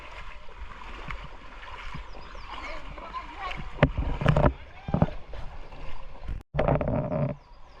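Vehicle pushing through rain floodwater covering a road in Lanja taluka, a steady watery wash and splashing with sharper surges, a brief cut near the end, and a voice speaking over it.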